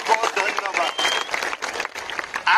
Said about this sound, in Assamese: আকৌ এটা আমি হাত চাপৰি বজাম